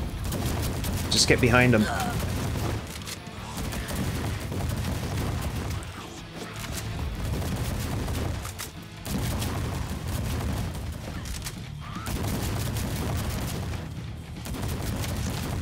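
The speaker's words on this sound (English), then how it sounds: "Mortars." Mortar and gun fire in the Welcome to ParadiZe horde mode, a dense, continuous din of booming impacts and shots with a sharp burst near the start, while players talk over it.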